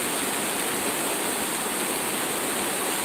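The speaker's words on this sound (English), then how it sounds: "look at them gushing waterfalls going in the background" Gushing waterfalls at the Last of the Mohicans historical site roar as a steady, loud, broadband rush of falling water, continuous and unbroken throughout with no voices.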